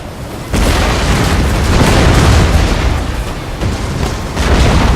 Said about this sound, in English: So I'm just getting bombarded by annoying rockets.